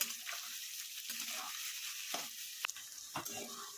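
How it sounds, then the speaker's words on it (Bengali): Sliced onions fry in hot oil for a mutton dish, giving a steady broad sizzle with a few sharper pops and stirring scrapes, close and continuous with no talking. "এবার পেঁয়াজগুলো ভেজে নেব লাল লাল করে"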